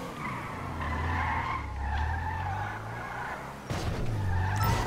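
A car in GTA 5 Online skids with a sustained, wavering tire squeal over engine rumble. The squeal lasts several seconds, breaks briefly, then starts again as the car keeps sliding.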